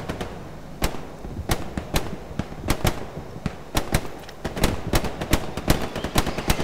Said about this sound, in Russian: а выстрел-то намного громче, чем у пистолета